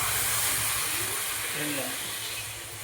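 Water poured into a hot cooking pan sets off a loud, steady hiss of steam that slowly fades toward the end, with a brief voice faintly in the background.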